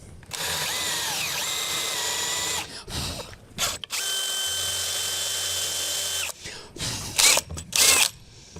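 A power drill bores a hole in timber while building a deck landing and stairs. It gives two long, loud whining runs, separated by a pause, and ends with a few short bursts as the trigger is pulsed.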